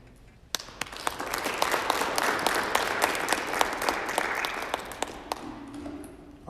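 Audience applause at a high school athletics spring signing ceremony, a steady wash of clapping from a crowd that swells, holds for several seconds and then fades, with a few sharper individual claps standing out.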